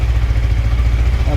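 Yamaha YZF-R15M sport motorcycle engine running close by, a loud, steady low throb with a fast, even pulse throughout, alone with no talk over it.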